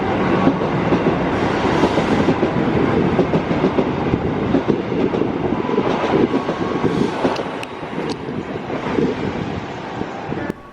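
KA Bengawan passenger train hauled by locomotive 2010402 rumbles past at close range, a loud continuous roar with clickety-clack and wind buffeting that eases slightly near the end.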